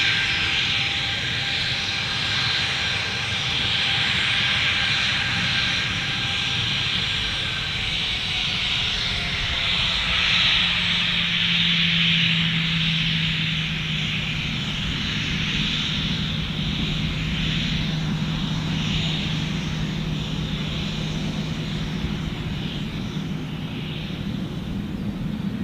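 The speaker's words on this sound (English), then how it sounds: "Let's get this Qantas departure" A Qantas airliner departs Gold Coast Airport, its jet engines a steady distant roar that swells and fades slowly over about half a minute, with no talking over it.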